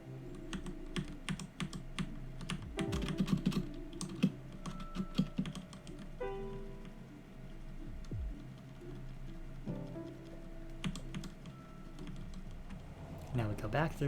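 Keys clatter on a computer keyboard in quick irregular bursts of sharp clicks, fairly close and steady, with a low background hum and faint other sounds running underneath.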